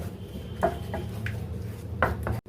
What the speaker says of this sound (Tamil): தயிரும் அந்த கடலை மாவு மசாலாவும் நல்லா மிக்ஸ் ஆகணும்.